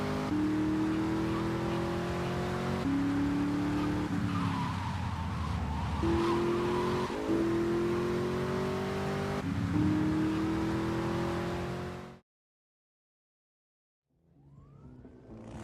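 Car chase in GTA Vice City: engines roar and rev steadily with shifting pitch and skidding, loud and continuous, then cut out abruptly before the engine sound returns.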